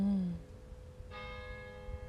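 Church bells ring at a chapel, a low struck tone at the start followed by a second, brighter bell strike with a long sustained, ringing decay, heard at a moderate distance in a quiet space.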